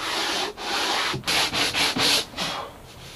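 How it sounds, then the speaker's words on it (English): Rhythmic hand sanding with a block along grooves in the wooden planking of a boat under restoration: a run of about six or seven dry rasping strokes, close and loud, with short pauses between them and no talking. "Tedious work sanding out the grooves."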